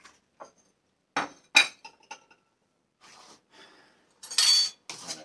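A spoon scrapes and clinks against a bowl while protein pancake batter with oats, a scoop of protein powder and cocoa is stirred, giving scattered short metallic taps and clatters in a quiet kitchen, with a brief soft rustle midway.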